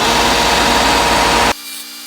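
A belt sander roars loudly as it shapes a wooden clown part, then cuts off abruptly, leaving a faint hum.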